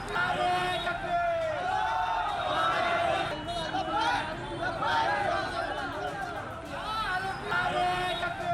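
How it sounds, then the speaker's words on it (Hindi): Crowd raising religious slogans during street violence in Nagpur, a dense babble of many voices shouting together at steady loudness throughout, with no single voice standing out. "धार्मिक नारे लगाए जा रहे हैं"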